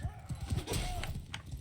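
Horse hooves clip-clop in quick, irregular beats through a Mount and Blade 2 battle, a single rider moving close by, with faint game noise around.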